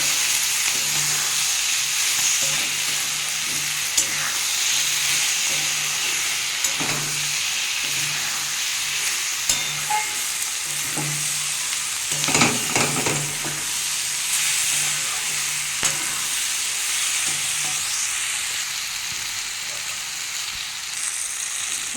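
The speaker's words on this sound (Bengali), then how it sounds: "এটা ভালো করে কষে নেবো একটু নাহলে জিরের গন্ধ ছাড়বে ভালো করে কষতে হবে" Dry spices with cumin, salt and sugar stir-fry in a pan for a vegetable curry with beet, carrot and peas, giving a steady close sizzle with scattered scraping and clinking of a spatula, no talk.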